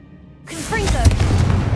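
Confringo fire spell bursting in Hogwarts Legacy, a sudden loud onset followed by crackling, booming impacts over game sound, with a voice speaking across it.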